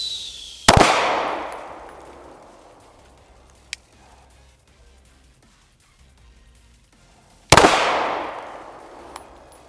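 Two loud, sharp gunshots from an upgraded Glock pistol fired several seconds apart at a range, each with a long fading echo, plus a faint click between them.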